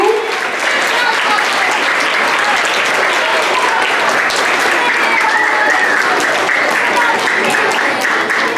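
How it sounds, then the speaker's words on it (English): Loud, sustained applause from a large audience at a school ceremony honoring children on stage, steady dense clapping throughout with a few cheers mixed in. "Let's give these boys and girls a big round of applause."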